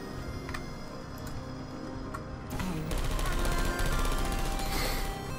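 Automated turret gunfire in the video game Portal 2, a rapid rattling burst that starts abruptly midway and continues loudly to the end, over a quieter ticking game background.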